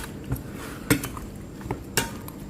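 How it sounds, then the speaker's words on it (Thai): Seasoned pork is tossed in a bowl with fish sauce, seasoning and oyster sauce, giving a few sharp utensil clinks against the bowl and soft wet mixing sounds in a quiet kitchen. "ชูรสค่ะน้ำมันหอยนะคะคลุกเคล้าให้เข้ากันเลยค่ะ"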